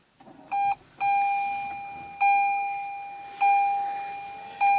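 Power-on chime of a 2017 Toyota Prius Prime Premium, heard in the cabin: a quick double tone, then a string of clear repeated electronic chimes at steady intervals, fairly loud with nothing else around it.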